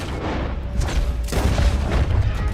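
Gunfire and booming shots in the Red Dead Redemption 2 video game, low rumbling blasts that come in several heavy bursts over a dense background din.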